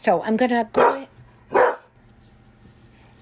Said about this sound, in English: Oops, I'm sorry, that's my dog.